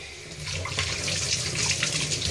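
Steady running tap water splashes into a sink, with small irregular spatters as tomatoes are rinsed under the stream, close and continuous.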